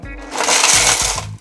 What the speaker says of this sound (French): on va mixer notre caramel qui a bien refroidi